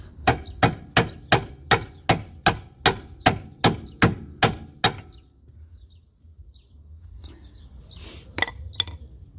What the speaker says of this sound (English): So to get this back in, you're going to have to get the trusty hammer out.